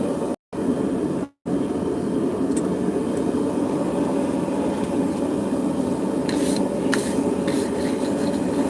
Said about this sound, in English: if you're wondering why I keep brushing my anvil off